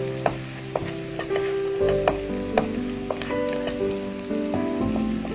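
Onions sizzle and crackle steadily in a pan as they soften, with scattered pops and the scrape of stirring, close by and without talk.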